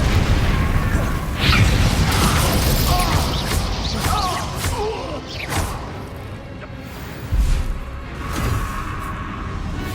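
Spell blasts from the Hogwarts Legacy video game crack and boom in a few loud bursts, with whooshing magic over a busy, dense game soundscape.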